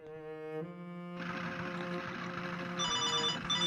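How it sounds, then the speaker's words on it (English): A phone rings in the Rule of Rose game, giving a clear electronic ringing tone that keeps going with a brief pause partway through, played over a soft background layer. "Oh, phone."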